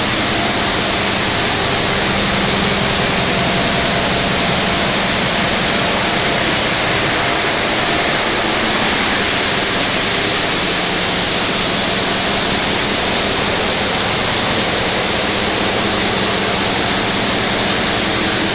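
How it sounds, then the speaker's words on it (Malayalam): Large multi-layer blade saw cutting granite slabs with water fed in at a factory in Kishangarh, Rajasthan, a loud constant roaring wash of noise that runs unbroken throughout. "ഇങ്ങനെയാണ് ഇത് കട്ടാവണേ"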